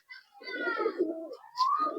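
Pigeons in a home loft, a paired set of Kala Duma and Madras birds, give soft throaty coos in two rounded phrases, close and moderately loud, with a brighter brief call near the end and no talking.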